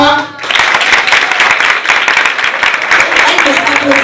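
Loud, dense applause from the audience at a women's slam poetry final, rising after a short pause and continuing steadily with voices mixed in.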